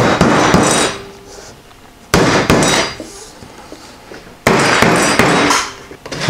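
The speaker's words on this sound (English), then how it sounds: "tap it into place. It's really handy if you have a rubber mallet." Three sharp, solid taps from a rubber mallet pressing spline into a window screen frame, spaced a couple of seconds apart, each ringing briefly before fading, close by with no talking.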